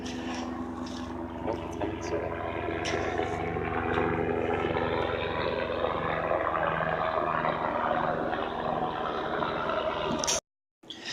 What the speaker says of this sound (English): Excuse the helicopter in the background.